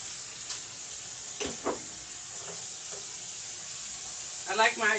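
Ground beef frying in oil in a pan, seasoned with pepper, giving a steady low hiss throughout with a few short clinks and bumps and a brief louder burst near the end.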